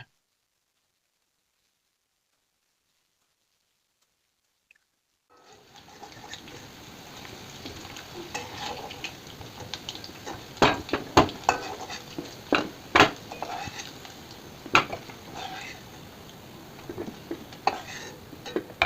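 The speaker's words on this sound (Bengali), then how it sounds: "এবার ওই তেলের মধ্যেই ভেজে নিলাম সিদ্ধ আলুগুলোকে" Boiled potatoes fry in hot oil, starting after about five seconds of silence: a continuous close sizzle and crackle with frequent sharp pops and spatula clicks, growing busier toward the end.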